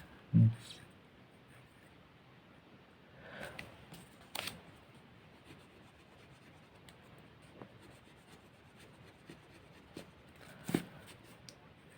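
A marker or chalk scratches out short strokes on a board as a list of age groups is written, with faint, sparse scraping and a few sharper taps in a quiet room.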